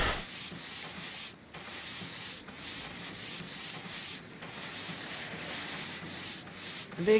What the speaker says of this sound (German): Da putze ich mal weiter die Schuhe.